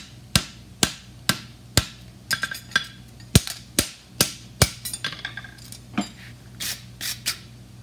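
A hammer strikes a horseshoe on an anvil while a fullered front shoe with a toe clip is forged, giving sharp, ringing metallic blows at a steady rhythm of about one every half second, close and clear, with no talk.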